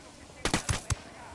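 Gunfire in the video game Ghost Recon Wildlands during a headshot kill: three or four sharp, loud shots in a quick burst, close and punchy, standing alone against quiet game ambience.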